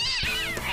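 A cat in the Hefty Smurfs 2 video game lets out a single drawn-out, wavering meow, loud and close, with no talk over it.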